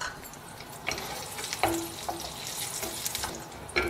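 Urad dal and red chilies frying in hot oil in a pan for ridge gourd chutney, a soft continuous sizzle with a few sharper crackles and stirring scrapes, close and fairly quiet.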